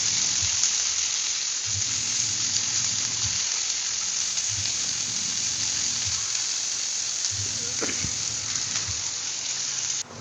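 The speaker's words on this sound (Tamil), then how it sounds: "இப்போ இந்த வெங்காயம் நல்லா வணங்கட்டும்." Steady, loud sizzling of onions frying in a pan, a continuous hiss with faint stirring scrapes and no talking.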